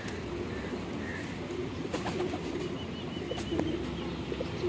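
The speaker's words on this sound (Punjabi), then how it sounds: "ਇਹ ਵੇਖ ਲਓ ਬੜਾ ਬਰੀਡਰ ਕਬੂਤਰ ਜੇ, ਬਟੇਰਾ ਕਬੂਤਰ ਮਾਸ਼ਾਅੱਲਾ" Breeder pigeons, including a large quail-type pigeon, coo softly in a loft amid steady background noise, with low repeated coos and occasional wing flutters at moderate distance.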